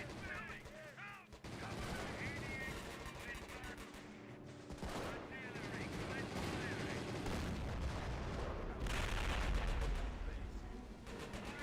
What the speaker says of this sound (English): Order a barrage there.